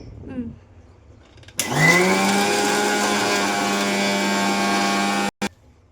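A kitchen mixer grinder with its lid on, grinding a dry powder, starts up loud after a quiet moment and runs with a steady, high motor whine before cutting off abruptly near the end.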